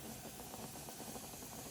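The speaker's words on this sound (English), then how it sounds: "All right, we've got our steam" Steam hisses steadily from a pressure canner being heated for canning beets, a continuous broadband rush with a low rumbling undertone throughout, close and even.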